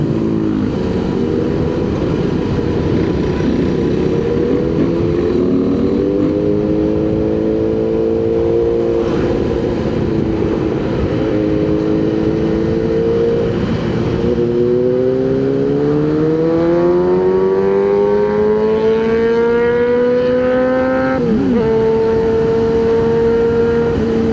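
A nearby engine drones steadily, its pitch climbing and settling through several revs, loud and continuous without any voices.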